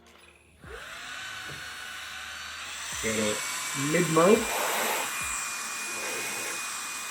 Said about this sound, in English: I will get the vacuum here. I will try it without the attachment, so excuse the loud sounds.